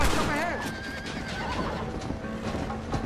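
A horse in the Red Dead Redemption video game gives a loud, close whinny with a rising-falling neigh near the start, followed by clip-clopping hooves and game ambience, with some talk nearby.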